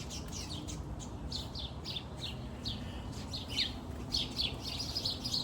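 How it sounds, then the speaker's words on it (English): Small birds chirp repeatedly in the background, bright quick tweets in irregular bursts over a low steady hum, moderately near, with no talk. "looks like we have some unscripted bird activity in the background there"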